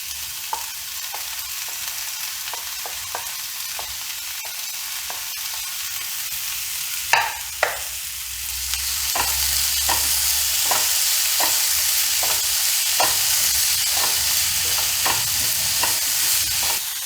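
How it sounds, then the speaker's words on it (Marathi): Capsicum and onion being sautéed in a pan for masala pav: a steady sizzle with repeated clicks and scrapes of a spatula stirring, growing slightly louder partway through, with no voices. "शिमला मिर्च मी छान परतून घेत आहे।"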